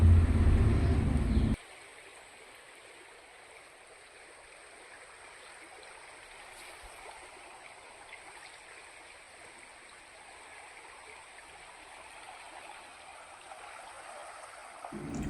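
A shallow, roughly one-foot-deep river used for bathing flows in a steady, soft rush of water, with a louder burst of noise at the very start before the flow continues evenly.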